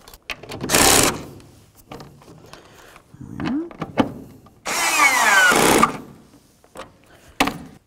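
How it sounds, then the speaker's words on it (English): A power driver snugs taillight mounting bolts on a 2004-08 Ford F150, giving two loud, close whirring bursts separated by quieter handling clicks and clatter, with faint talk in between. "We've got our two mounting bolts. Put both those in and snug them up."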